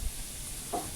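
Onion frying in oil in a pan at home, a steady, soft, close sizzling hiss with a brief stir midway.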